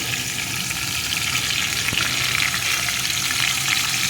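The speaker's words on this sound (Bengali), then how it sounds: "ভেজে নিয়েছি এখন এর ভিতরে দিয়ে দেবো একটা টমেটো কুচি" Pumpkin fries with chopped tomato in hot oil, giving a loud, continuous, close sizzle with a faint stir or two partway through and nobody talking.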